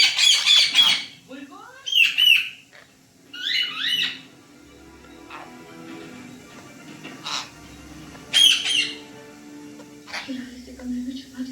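A parrot squawks in sharp, shrill bursts, loud and close, repeated every couple of seconds with quieter squawks in between, while voices talk beneath them.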